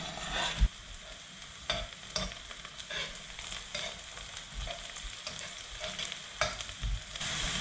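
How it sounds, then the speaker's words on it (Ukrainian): Chopped onion frying in hot oil: a steady, crackling sizzle with occasional scraping and stirring clatter, no voices. "Відправляю смажити цибулю та буду обсмажувати до золотавого кольору"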